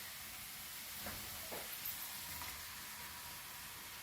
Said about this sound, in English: Now we will add to this our prawns